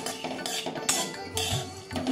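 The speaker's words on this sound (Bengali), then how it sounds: "এবার আমি কড়া বসিয়ে মুসুর ডালটা ড্রাই রোস্ট করে নেব।" Red lentils are dry roasted in a metal wok, with a spoon scraping and clinking against the pan in quick, irregular strokes and a soft rustle of grains between them, close and clear.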